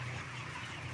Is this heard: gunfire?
no